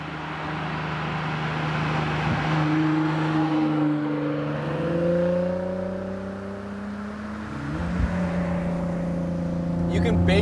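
A 650+ horsepower Nissan GT-R accelerating at part throttle, heard from inside the cabin: the engine note climbs through rising gear pulls with a brief dip at a shift, while a person talks over it.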